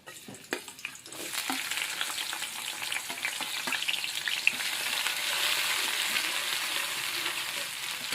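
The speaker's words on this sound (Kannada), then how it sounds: "ಉಳ್ಳಾಗಡ್ಡಿ ಒಂದು ಸ್ವಲ್ಪ ಫ್ರೈ ಮಾಡ್ಕೊತೀನಿ ರೀ ಚೆಂದಾಗಿ" Onions frying in hot oil give off a steady close sizzle with stirring scrapes, and it grows a little louder after a few light knocks at the start.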